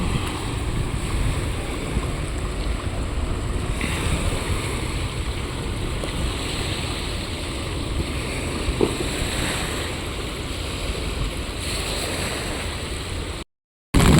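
Steady, broad rushing of a flooded river roars continuously during heavy rain in San Andres, with wind buffeting the microphone and a brief dropout near the end.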